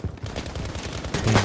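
Gunfire from Battlefield V, including shotgun shots, bursts out in quick rough blasts, close and loud, over a busy battlefield din across a short stretch.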